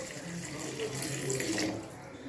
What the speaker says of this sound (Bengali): এইবার আমি কিন্তু রুম টেম্পারেচারে জল দিয়ে দেবো।